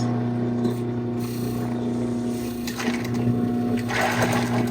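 A sewing machine stitches fabric in a sewing lesson, giving a close, steady mechanical whir that runs continuously for a few seconds, with slight changes in texture toward the end.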